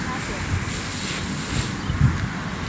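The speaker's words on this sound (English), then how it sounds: "protect the microphone from the wind at the same time" Wind buffets the microphone near a beach at a luxury resort in Khanh Hoa, Vietnam, a constant blustery rush with a few low thumps of gusts hitting the mic, and no one speaking.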